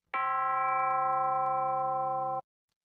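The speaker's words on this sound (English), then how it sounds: "So we'll just go back with our chime sound here, and you can hear it." A synthesized chime patch from the Reason Malstrom synthesizer: one bell-like tone strikes cleanly, then holds steady and bright before cutting off abruptly, loud and alone with no talk.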